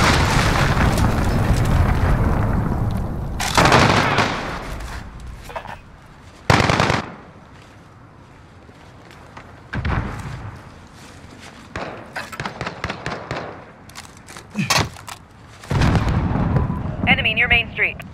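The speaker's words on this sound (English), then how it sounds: "Hostile. Cruise missile incoming." Cruise missile strikes in Call of Duty land as several loud, broad booms spaced across the clip, mixed with bursts of gunfire and a radio-style voice between the blasts.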